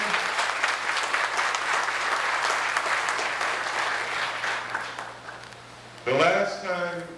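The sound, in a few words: round of applause at event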